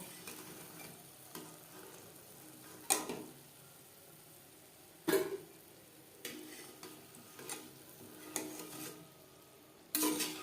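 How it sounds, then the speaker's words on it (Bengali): Chicken patties frying in hot oil, a faint steady sizzle broken by several sharp clicks and scrapes of a utensil turning them in the pan, with no talk. "পরের প্যাটিস একইভাবে ভেজে নেব"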